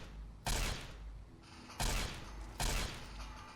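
Gunfire in the video game Fallout: New Vegas: three loud broadband bursts, spaced unevenly about a second apart, with a steady low hum of game ambience between them.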